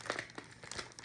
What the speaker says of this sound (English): See if I can take this tape off of here.